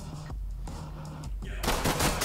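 Rapid video game gunfire coming from a window, dense continuous bursts that swell louder toward the end, with no talk over them.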